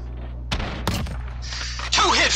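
Gunfire in a video game: two quick, loud, close shots in succession, followed by a short stretch of game noise and then a voice speaking.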